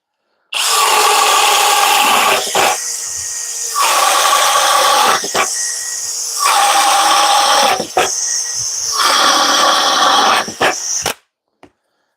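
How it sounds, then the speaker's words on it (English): A Flex compact drill in speed 2 drill mode, fitted with a 1-inch Diablo Speed Demon bit, bores through a two-by-four in four loud, steady bursts separated by short pauses, with a final brief whir at the end. "Speed 2 drill mode, 1-inch Diablo Speed Demon bit."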